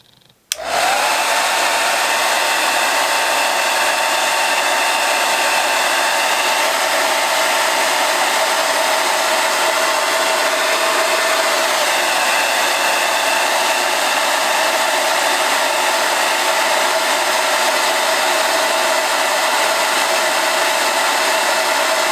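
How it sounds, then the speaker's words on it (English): A hair dryer blows at a steady, loud, unbroken roar for a long stretch while drying paint on a tulip painting, starting with a brief click and holding the same pitch throughout. "when I was using the hair dryer"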